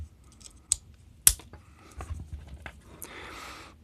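Scissors snipping through plastic sleeving on a rechargeable camping light's battery pack: a few sharp close clicks and cuts, then a brief scraping rustle of plastic, with no talk.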